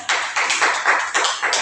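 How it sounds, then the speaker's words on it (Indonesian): Applause for a student group in a classroom is brief and sparse, with a handful of close, distinct claps in an uneven rhythm over under two seconds. "tepuk tangan untuk kelompok 3"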